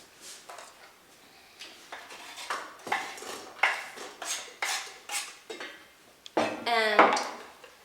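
Utensils knock and scrape against a frying pan as cooking onion with a little olive oil is moved around, giving a string of clattering metallic taps, moderately close, ending in a brighter clang.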